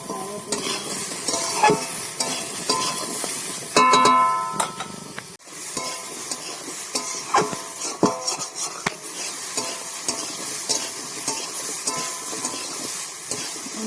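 Spices and green chillies fry in a pan for a small rohu fish curry, with continuous sizzling and frequent clattering strokes of a spoon stirring against the pan, close and steady throughout.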